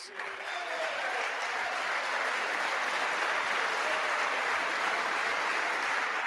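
Sustained applause fills the House chamber, a dense wash of clapping from many people that holds steady throughout, fairly loud and without a break.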